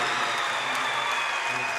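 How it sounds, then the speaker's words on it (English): Applause from the crowd at a St. Henry versus Marion Local boys tournament basketball game, a dense, steady wash of clapping from many hands throughout. "well-deserved round of applause for St. Henry"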